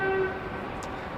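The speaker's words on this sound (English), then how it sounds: "So another train has just arrived into South Dining Yard." A freight train arriving in South Dynon Yard, Melbourne, rumbles faintly in the distance while a brief horn tone sounds at the start.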